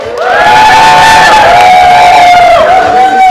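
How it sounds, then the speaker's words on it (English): One side of a room full of people cheers on cue at a business talk, a loud burst of shouts and whoops with sustained high-pitched voices for a few seconds. "Let me hear this side of the room cheer."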